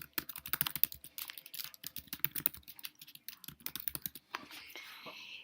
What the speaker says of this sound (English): we're going to type in the various days